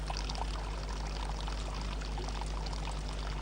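Water pours continuously into an Inca stone fountain at Machu Picchu, a steady splashing rush with a low rumble beneath, close and even throughout with no talking.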